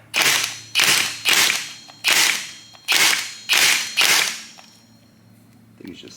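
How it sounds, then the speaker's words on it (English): Seven sharp, loud bursts of an impact gun with a 39mm socket hammering at a motorcycle clutch nut, in quick, slightly uneven succession, then a quiet pause and a faint click at the end. "we got a 39mm socket on impact gun"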